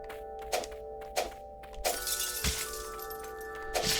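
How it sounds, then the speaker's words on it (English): Repeated bursty shattering impacts from explosions in the video game Howler, several sharp crashes spaced irregularly over a steady musical drone, loud and close with a busier stretch of clatter in the middle. "Pizza explosions, why?"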